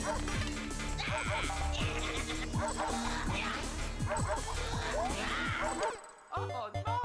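Cartoon dog barks and yips in Super Mario Bros. Wii gameplay, repeated bright barks over busy game music and effects, ending in a brief pause and a lower tone.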